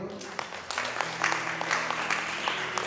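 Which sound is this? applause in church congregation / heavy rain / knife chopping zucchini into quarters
applause in church congregation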